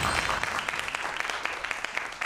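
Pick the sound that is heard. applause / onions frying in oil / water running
applause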